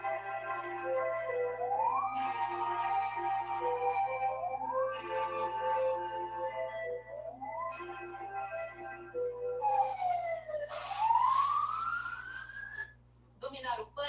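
Fire alarm siren sounding as an emergency warning, its loud wailing tone sweeping upward again and again in repeated cycles, with a steadier rising wail near the end.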